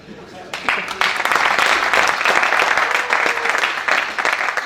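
Audience applause in a hall at a Congolese student presentation on rail transport of farm produce, a dense wash of many hands clapping that swells after a quieter start and holds steady, close and loud.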